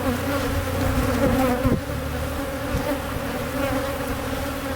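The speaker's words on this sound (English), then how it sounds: "We need to calm these bees down." A dense, steady drone of many honey bees buzzing close by at an open hive during an inspection, loud and continuous with no voices.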